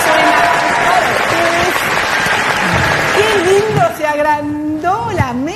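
Applause from a television studio audience, steady clapping that fades as a host speaks over it and continues talking.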